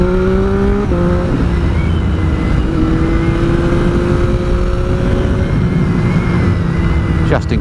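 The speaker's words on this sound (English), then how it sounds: "the triple engine on it just sounds amazing" A Triumph Street Triple R motorcycle's triple engine idles and revs in a continuous loud drone, the pitch stepping up and down over several seconds as the throttle is worked.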